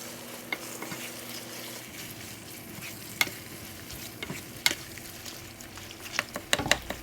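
Ramen noodles and Bolognese sauce stirred together in a pan, a steady low sizzle running under scattered sharp clicks and scrapes of the utensil against the pan.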